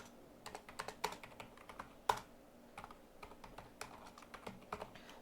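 Typing on a computer keyboard while writing Python code, with light irregular key clicks and a few sharper taps, close and fairly quiet, no talking.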